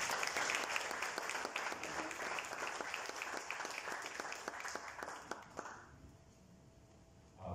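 An audience at a business index presentation breaks into loud, sustained applause with distinct claps to welcome a speaker to the stage, then dies away into room quiet with a faint hum.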